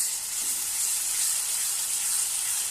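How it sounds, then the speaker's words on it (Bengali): Food frying in a pan as it is stirred after salt is added, a steady close hissing sizzle that holds evenly throughout without pause. "একটু নুন দিয়ে নাড়াচাড়া করে নেওয়া হচ্ছে।"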